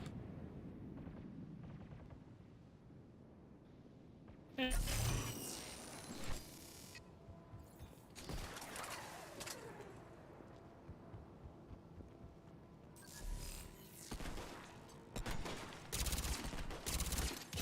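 Bursts of rapid gunfire in Mass Effect 3 multiplayer erupt in dense fusillades, loud and sustained, separated by quieter stretches of ambient rumble, with repeated volleys crackling over several seconds.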